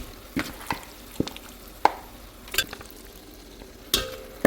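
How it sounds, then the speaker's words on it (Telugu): Marinated mutton cooks in a pan for mutton curry, with a few sharp, distinct utensil scrapes and stirring knocks spaced out over a faint sizzle, fairly close and quiet, with no talking. "ఇది మనం ముందే మ్యారినేట్ చేసి పెట్టుకున్నాం కదా ఆ మటన్ని ఇందులో వేస్తే అయిపోతుంది"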